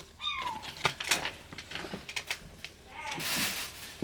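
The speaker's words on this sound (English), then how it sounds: "Can you hear one of my kittens?" A kitten meows indoors, with a couple of short, rising high-pitched cries near the start and another near the end, separated by soft knocks and rustling.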